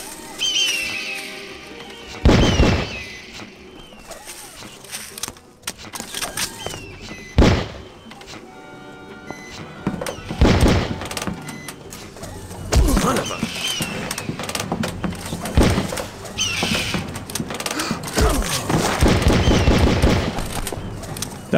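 Bursts of gunfire and heavy impacts from enemies being shot in the video game Outcast, loud and repeated over a busy mix of game music and effects, with scattered thuds and short volleys across the stretch.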